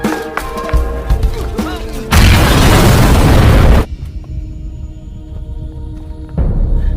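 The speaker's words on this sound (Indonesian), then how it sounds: "aksi baku tembak dan kejar-kejaran pun dimulai" Gunfire in a Triad crime film shootout and chase, heard as a loud, dense burst of blasts lasting close to two seconds that stands out between quieter stretches of the soundtrack.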